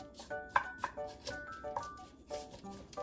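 Sweet potato bites are pushed around a baking pan, giving a quick series of soft scraping and tapping clicks at close range.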